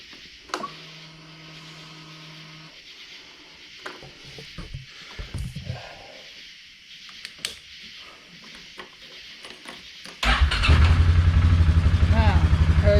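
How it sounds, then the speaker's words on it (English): A 2015 Polaris Sportsman 570 ATV engine cranks and catches, settling into a loud, steady running drone that fills the end of the clip after a stretch of quiet handling noises. "Let's see if it's gonna crank."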